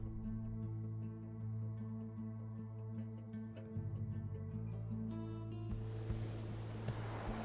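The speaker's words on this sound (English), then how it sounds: "Oh, I hear the water once again." Gentle water waves lap in the video game Pyre, a soft steady wash of surf over sustained low musical drones, swelling into a broader hiss of water toward the end, with no talking.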